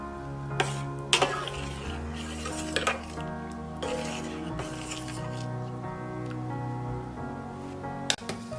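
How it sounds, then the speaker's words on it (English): Metal spoon stirring rice in boiling water in a cooking pan, with soft scrapes and a few clinks against the pan over a low bubbling hum, fairly quiet and close. "After adding rice, you should stir at least one time so that rice doesn't stick to the bottom."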